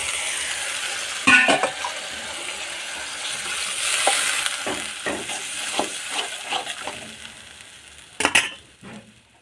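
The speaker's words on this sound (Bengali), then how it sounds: "বেটে রাখা আদা, জল দিয়ে কষে নেব" Ginger paste fries with a little water in a pan, a steady sizzle broken by scraping stirs and a few sharp clinks of the spatula against the pan.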